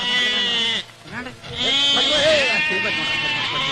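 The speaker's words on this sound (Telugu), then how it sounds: "గిరిజా, గొర్రెలన్నీ తడుస్తున్నాయి" Sheep bleat repeatedly in a Telugu drama film scene, with wavering cries layered over voices and other background sound, dipping briefly before rising again.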